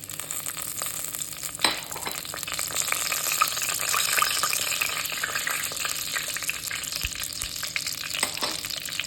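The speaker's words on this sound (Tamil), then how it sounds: "கடுகு பொரிஞ்சிருச்சு." Mustard seeds, urad dal, fenugreek and fennel crackle and splutter in hot oil in a pan for a fish curry, a dense, continuous sizzling hiss with scattered pops, close and steady.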